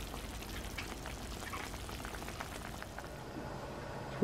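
Water in a pot on the stove comes to a boil for pork backbone stew, a steady bubbling, sizzling hiss that stays even throughout at moderate loudness.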